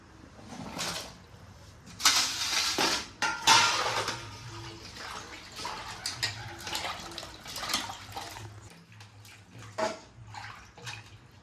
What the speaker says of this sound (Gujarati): તો હવે આપણે આને ભીંડાને ધોઈ નાખીએ.